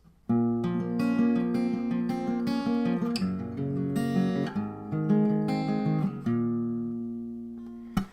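Acoustic guitar plays the intro of a song in a lowered tuning, a clear close-miked run of picked notes and ringing chords, with the final chord fading out.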